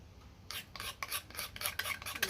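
A wooden nalbinding needle is smoothed by hand with a rasp or abrasive, a quiet close-up series of about eight short rhythmic scraping strokes with no talking.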